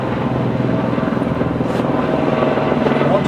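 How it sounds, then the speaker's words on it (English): A helicopter passes overhead, its rotor giving a steady, rhythmic low thudding that stays loud and even throughout, with faint voices underneath. "as a grower, the sound of a helicopter is very bloody scary"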